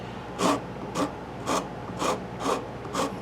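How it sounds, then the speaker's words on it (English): A rasp files a wooden pinewood derby car in six evenly spaced rough scraping strokes about half a second apart, close and fairly loud, with no talking. "Gotta control the rasp."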